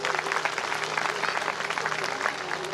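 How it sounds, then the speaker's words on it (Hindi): Audience applause at a Shri Vishnu Puran religious discourse gathering, a dense steady clapping from a crowd that continues throughout, with a faint sustained musical tone underneath. "एक बार जरा ताली बजाएं आप सभी लोग अपने लिए।"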